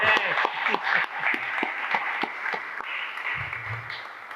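Scattered hand claps ring out crisply at a fire department's new facility presentation, uneven and fairly close at first, then thinning into a looser patter with a low voice murmuring near the end.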